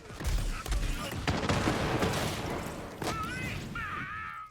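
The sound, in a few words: Zane's weapon firing projectiles in the video game Borderlands 3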